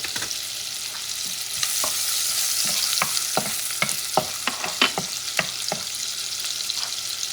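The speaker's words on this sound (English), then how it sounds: "I'm going to add the onions. Trying to saute this baby." Onions sautéing in a pan for a cod soup, giving a steady close sizzle with repeated sharp clicks and scrapes of a utensil stirring, no voices.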